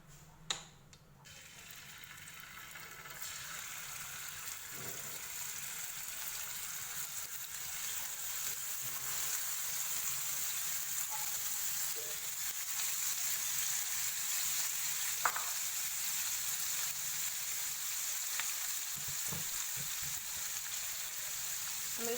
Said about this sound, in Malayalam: ബോൺലെസ് ചിക്കൻ നന്നായിട്ട് കഴുകി കുറച്ച് ഉപ്പൊക്കെ പരട്ടിയിട്ട് നമുക്ക് അത് ഈ ഓയിലിൽ വറുത്തെടുക്കാം.